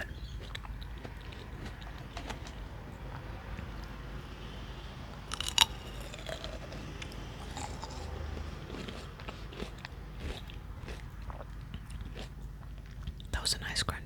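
Close, quiet chewing of crunchy red royal ruby grapes, with soft wet munching and small bites under a low, steady room hiss, plus a brief sharper crunch partway through.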